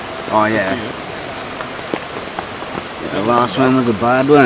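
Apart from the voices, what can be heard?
rain falling on tent canvas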